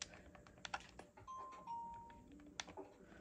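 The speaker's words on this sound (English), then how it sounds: "You place a gold block beneath it, and that's what creates the doorbell tone" A Minecraft note block doorbell tuned by a gold block underneath gives soft, bell-like chimes, a few separate tones ringing faintly with a sustained note in the middle and no talking.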